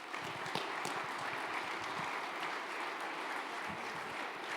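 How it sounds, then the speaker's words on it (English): A conference audience at a DevOpsDays event in Ohio claps in sustained, dense applause at moderate distance, with no talk over it. "Give yourselves a round of applause."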